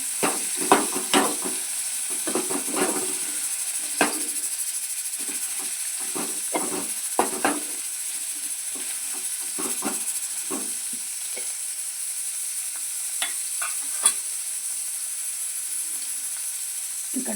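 Bitter gourd pieces fry in oil with a close, continuous bubbling sizzle and scattered sharp pops and crackles, fairly loud, no voices over it.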